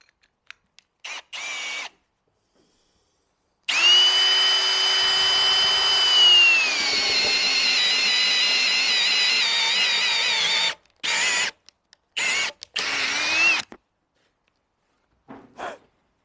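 A drill bit is sharpened on a power tool that emits a loud, sustained whine for about seven seconds, with a few short grinding bursts before and after and silent gaps between them.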